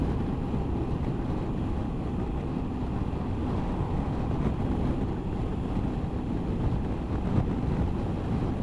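Steady, heavy wind roar buffets the microphone while riding a Honda ST1100 motorcycle at 70 mph behind a tall touring screen, a continuous low rumble with no pauses and no speech.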